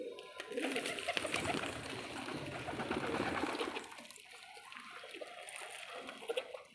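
Pigeons coo and flutter close by as they feed on scattered grain, with a busy rustling burst early on, then sparser soft pecking and cooing.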